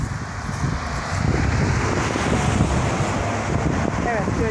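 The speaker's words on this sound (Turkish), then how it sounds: "Rüzgarımız çok güzel üfür üfür esiyor." Strong wind blows steadily, buffeting the microphone with a constant rumbling roar, and faint voices may sit beneath it.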